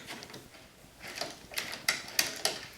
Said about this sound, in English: The first step is to remove the 4 bolts that are holding down your luggage rack.